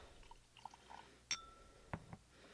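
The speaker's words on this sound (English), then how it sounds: "Now, I filled this all the way up, so before I add my mica, we're going to pour some of this off." Alcohol ink poured off from an over-full glass bottle: a soft clink of glass, then brief liquid splashes and trickles, faint and close, with a few quiet handling knocks.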